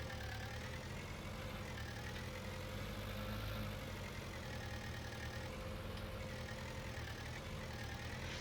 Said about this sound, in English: You can hear the tractor kind of revving a bit. And every now and again quieting down.